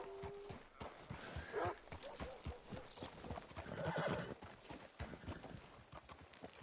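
Regular clip-clop of horse hooves in Red Dead Redemption 2 trots along at a steady pace, with a brief whinny partway through. It is fairly faint.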